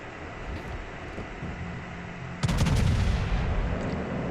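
The Bismarck's heavy naval guns fire in World of Warships, a sudden deep boom partway through that leaves a loud rumbling roar over a steady background hum of engine and sea noise.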